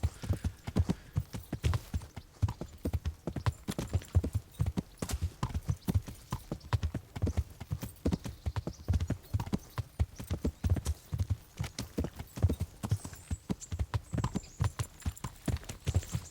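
Continuous rhythmic clip-clop of horse hooves in Kingdom Come: Deliverance, steady and close, with an occasional faint whinny in the background.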